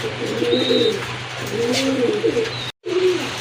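Close, loud pigeon cooing comes in two or three rolling, throaty phrases, among domestic and foreign pigeon breeds kept for sale, with a faint high chirp above and a brief dropout near the end.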